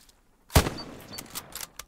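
Gunfire in Hell Let Loose on a training range: one loud, close shot followed by several fainter scattered reports and clicks, with no voices.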